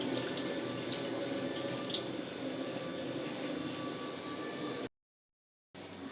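Rice is rinsed under a running kitchen tap for Bengali-style pulao, a steady close splashing flow that cuts off abruptly near the end and returns in a brief burst.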